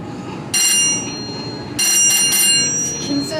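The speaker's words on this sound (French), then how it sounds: "C'est une sonnette." A doorbell chimes twice in a Barcelona illusion museum, with two bright, ringing bursts separated by a short pause over a murmur of room noise.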